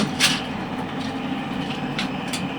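Rumbling metro train noise fills the station, with a few sharp hisses and clacks from the carriages as it rolls in.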